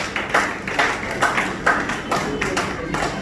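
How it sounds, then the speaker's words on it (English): Audience clapping at a political campaign gathering for Omo-Agege 2023, heard as a loud, rhythmic group clap with regular beats about twice a second, close and steady, with some voices mixed in. "Clap for yourselves."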